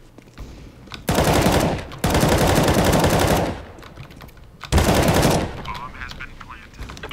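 Bursts of automatic gunfire in Counter-Strike: Global Offensive: three loud, close rattling volleys of a second or more each, separated by quieter gaps with faint game noise and a bit of talk.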